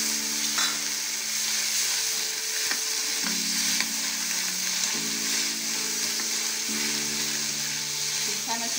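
Boiled long beans (barbati) sautéing in a pan give a steady, close frying sizzle, with a few soft stirring scrapes and light clinks against the pan breaking through the crackle, no voices.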